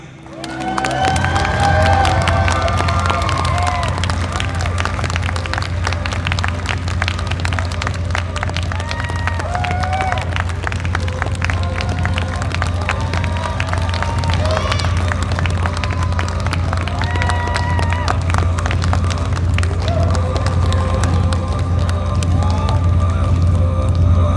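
Audience at a Visioncon 2023 cosplay contest bursts into sustained applause and cheering, a dense steady roar of clapping and shouts that holds at full volume throughout after a quick swell.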